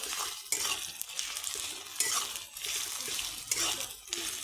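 Ginger and garlic paste fries in a pan while a spoon stirs it in repeated scraping strokes over a crackling sizzle. The sound is close and moderately loud, with no speech.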